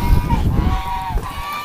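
Goose honking in the cold outdoors, a few nasal calls over wind and low rumbling noise, moderately close.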